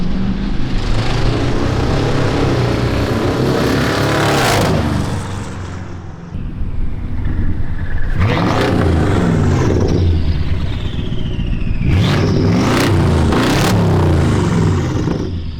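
A twin-turbo V8 BMW with a loud exhaust makes repeated drive-bys, its engine revving hard and roaring as it swells up close, then fades between passes, with sharp accelerating bursts and turbo whine.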